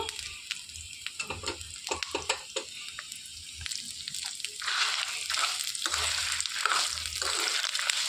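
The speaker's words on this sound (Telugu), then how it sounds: "చక్కగా వేయించేసుకోవాలండి మాడిపోకుండా." Finely chopped, peeled ginger pieces frying with chillies in a pan for ginger chutney, a close bubbling sizzle broken by sharp stirring scrapes that grows denser and louder toward the end.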